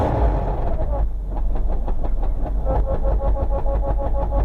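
A 1985 Ford Belina with a broken gearbox accelerating, a loud low engine rumble with rhythmic clattering and a whining tone, recorded close up with someone talking over it.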